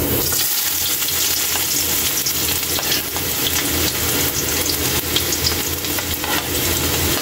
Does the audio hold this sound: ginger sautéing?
yes